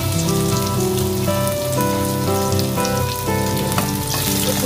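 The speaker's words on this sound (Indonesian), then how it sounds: "ini sudah panas, kita masukkan bombay dan bawang putihnya ya" Onion and garlic sizzle loudly in hot oil in a home kitchen, a steady dense crackle of frying that continues without a break and is heard alone, with no voices over it.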